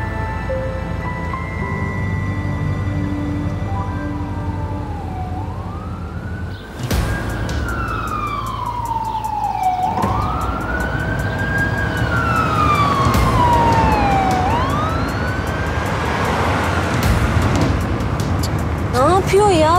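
An ambulance siren wails through traffic on a road, its rising and falling tone sweeping repeatedly and growing louder as it draws near, with people talking and a sharp impact partway through.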